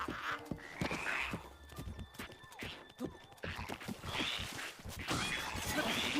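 A horse whinnies amid clattering hoofbeats and sharp impacts in The Legend of Zelda: Breath of the Wild, with dense game sound effects and a faint voice underneath.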